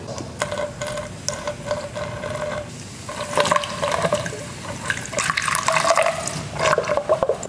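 Baking soda solution is poured slowly into the cells of a car battery being revived, giving intermittent trickling and gurgling liquid sounds in short bursts, moderately close, with no talk.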